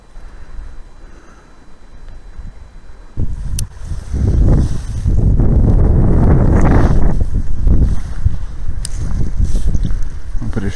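Gusty wind buffets the microphone beside a river while a new float fishing rod is cast for chub, a low rumbling roar that swells loud after a quieter start and stays strong, with brief clicks.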